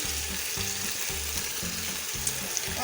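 Onions tipped into a hot pot for beef kunna, frying with a bright continuous sizzle and a steady pulsing stir underneath, close and fairly loud.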